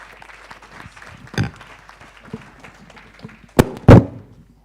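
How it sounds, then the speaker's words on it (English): Conference audience applause thins to scattered, sparse claps, then two loud thumps land near the end. "Another round of applause, please."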